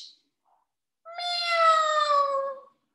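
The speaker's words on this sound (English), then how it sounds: "It is a large orange cat." A single drawn-out meow from a large orange cat, clear and close, following a faint squeak and a moment of silence.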